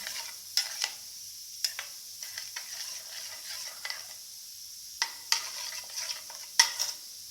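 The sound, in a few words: stirring tamarind rice mixture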